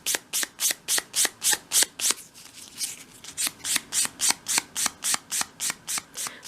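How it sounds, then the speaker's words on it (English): A small wooden piece for a 1/12 scale dollhouse bedside cabinet is hand-sanded with fine grade sandpaper: quick, even back-and-forth rasping strokes, close and crisp, about three per second, with no talk. "You can then tidy that piece up in your hand with a piece of fine grade sandpaper."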